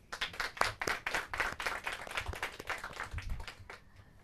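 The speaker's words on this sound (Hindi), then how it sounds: "तालियों के साथ हमारे स्पर्धकों को उत्साह दें और उनकी प्रेरणा बढ़ाएं" A studio audience at a Hindi quiz show final claps steadily and fairly quietly, a dense patter of hands that thins out toward the end, with no talk over it.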